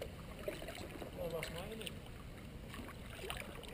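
Kayak being paddled on the water, soft splashing and dripping strokes close by with faint water movement, under quiet low talk.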